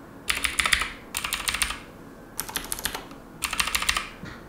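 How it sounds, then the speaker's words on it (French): Typing on a custom-built computer keyboard used for comparison, four separate bursts of rapid, clacky keystrokes with short pauses between, close and clear with no talking. "Si je prends un autre clavier pour comparer"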